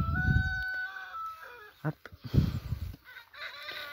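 Brahma porcelain roosters crow close by at a poultry breeding farm, several harmonic cock-a-doodle-doo calls overlapping with short clucks and rustling, fairly loud.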